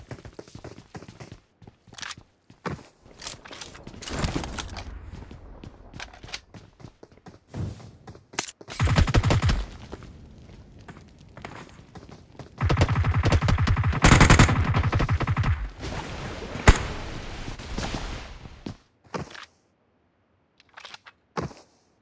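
Gunfire in the mobile shooter BGMI: scattered single shots and bursts of automatic fire, loud and close, broken by quiet gaps and footsteps-like clicks.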